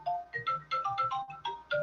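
Mobile phone ringtone playing a repeating melodic pattern of short electronic tones in steady pulses, moderately loud and heard alone with no talking over it.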